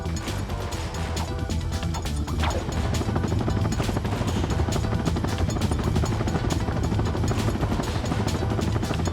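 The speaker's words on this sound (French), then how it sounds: "on se fait traverser la gueule par des vaisseaux" Spaceships roar past in the Ratchet & Clank PS2 game on Kerwan's Metropolis, a continuous dense whirring, rumbling drone with mechanical clatter and impacts, steady and loud throughout.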